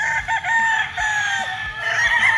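A Kelso gamefowl rooster crows loudly and close, a sustained strained crow filling the whole moment with no talk over it.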